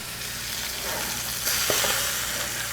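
Trout sizzling steadily in a frying pan, a dense continuous hiss with faint crackles and a brief clatter as the fish is handled, close and fairly loud with no talking.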